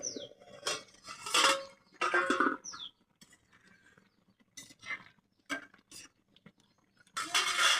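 A cooking pot lid is lifted off during a mung dal dhokla vegetable dish, heard as scattered metallic clanks and scrapes in short bursts separated by near-silent gaps.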